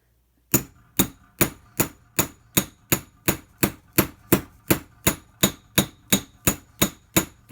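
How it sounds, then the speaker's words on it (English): A metal hammer strikes a workpiece to leave marks, about fifteen sharp ringing blows at a steady, even rhythm, each loud and close with a short decay. "Let the hammer do the work."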